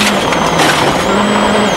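A rally car in WRC Rallye Mexico 2012 is driven flat out on a stage, its engine a loud, sustained, close high-revving roar.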